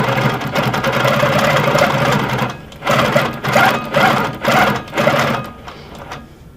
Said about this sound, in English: To check tension, I'm going to stitch little loops and little points